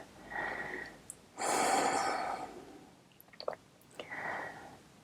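Deep breathing during a yoga session, with a few slow audible inhales and exhales, one long and strong breath, and quiet pauses between them, close and fairly soft.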